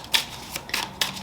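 Tarot cards are shuffled by hand in close, soft riffling whooshes that repeat about three times in quick succession, with no talking.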